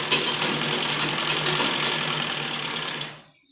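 A sewing machine stitches a belt onto a baby frock in one continuous, close whirring run for about three seconds, then stops abruptly into silence.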